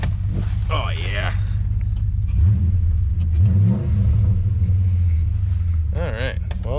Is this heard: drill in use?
no